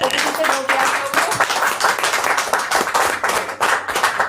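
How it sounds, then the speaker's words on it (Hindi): A small group at a shop training session claps for a colleague named Yashoda, with loud, close, brisk hand claps running continuously and some voices murmuring underneath. "मैं चाहती हूँ यशोदा के लिए जोरदार तालियां होने की"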